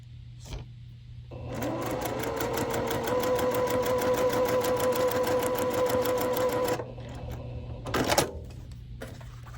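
Sewing machine stitching a quilt snowball unit along a diagonal seam line, a close, steady rapid chatter running for about five seconds between quieter handling clicks.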